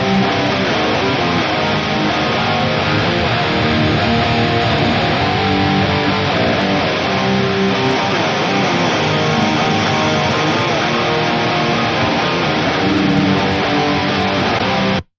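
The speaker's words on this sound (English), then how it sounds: "we can go back to using the Bogren Digital and the JST Classic 412 at the same time, and that would sound like this." Seven-string metal rhythm guitar through the Toneforge Jeff Loomis plugin with Bogren Digital and JST Classic 412 cabinet impulse responses blended, playing dense, loud, heavily distorted chugging riffs that stop abruptly at the end.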